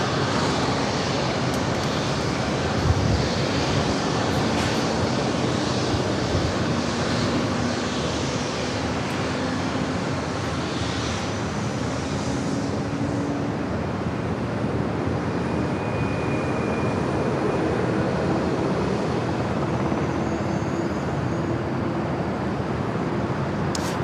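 A Boeing 737 MAX 8 bound for Sacramento makes a steady, broad jet engine roar at San Diego airport, with a continuous wash of noise that holds at a fairly even level throughout.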